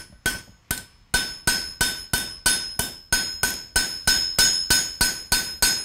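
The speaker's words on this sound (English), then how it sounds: "And give this whole piece along the shank hammer texture." A hand hammer texturing the shank of a forged steel doorstop, with about sixteen sharp ringing strikes in a steady, even rhythm. Close and loud, with no voices.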